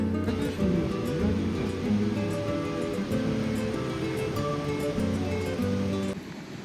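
Steady surf washes onto Sonpur beach in Odisha in a continuous roar, with a low tonal hum running underneath.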